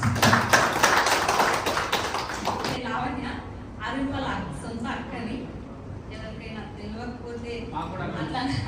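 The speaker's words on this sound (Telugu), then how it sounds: "ఒకసారి గట్టిగా క్లాప్స్" A crowd at a Telangana political meeting for the 2024 parliament elections claps loudly in a dense burst for about three seconds, then someone talks over faint background noise.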